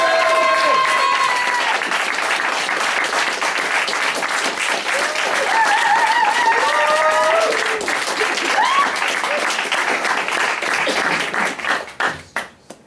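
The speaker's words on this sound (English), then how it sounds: "give a big round of applause for AmirDarwish" A comedy club audience claps to welcome a stand-up comedian to the stage, with steady, dense applause and a few cheers that run for several seconds and then taper into scattered claps.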